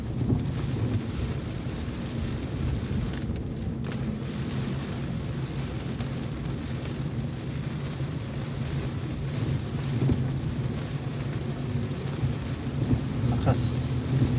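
Heavy rain from Typhoon Odette pours steadily over Lapu-Lapu City, a dense broadband wash with low rumbling wind and road noise beneath, continuous throughout with a brief high hiss near the end.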